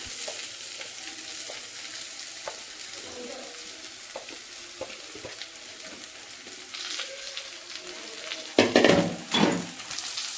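Poha being stirred in a pan on a gas stove gives a soft continuous sizzle with scattered scraping and tapping of a utensil against the pan, followed by a few louder clattering strokes near the end.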